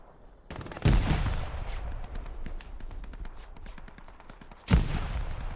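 Gunfire and grenade blasts in the Hell Let Loose battlefield, two heavy booming explosions with rattling rifle and machine-gun fire crackling between them.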